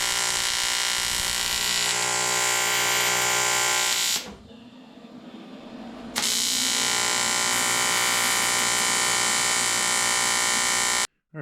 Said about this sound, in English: We'll tack it up first and then move on to finish welding it.